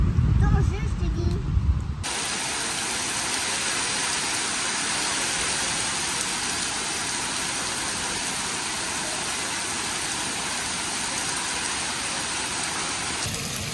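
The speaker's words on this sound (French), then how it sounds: "Bon bah il pleut un peu là." Light rain falls steadily, a continuous, even hiss that sets in after a brief louder moment at the start and then holds at the same level to the end.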